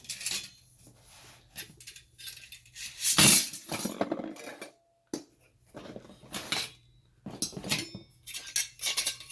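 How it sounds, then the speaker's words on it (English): A metal twig stove is handled up close, giving intermittent metallic clinks, rattles and clanks with brief quiet gaps and one louder clattering burst partway through. "And then we also have this twig stove."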